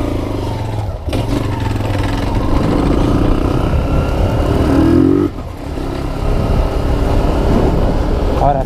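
A motorcycle with a new stainless steel exhaust runs steadily and close, its engine droning with a brief lull midway before resuming.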